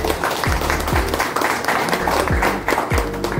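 A group applauds selected students, a loud, steady burst of many hands clapping together close by, with no talk over it.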